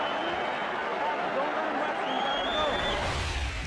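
A boxing crowd in England roars as the bell ends round four of a Mike Tyson fight, a dense, continuous wash of cheering and chatter close around, faintly rising near the end.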